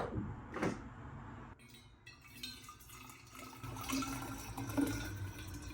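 Hot water, about tea temperature, is poured into an OutIn insulated bottle, with a gurgling splash of liquid and some clunks and handling noises, faint and indoors.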